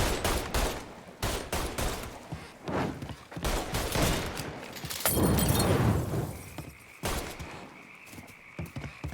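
Heavy Mafia III gunfire, rapid automatic bursts and single cracks mixed with shattering glass, loud and close with a short lull before firing resumes.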